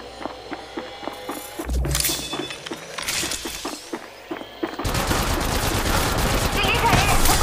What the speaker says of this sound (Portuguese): Se liga aí, eu tô levando tiro.